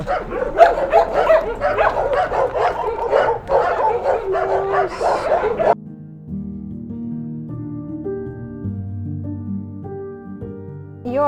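A large dog at an animal shelter in Hostomel, Ukraine, barks repeatedly in loud, rapid bursts for several seconds, followed by a quieter stretch of steady tonal sound.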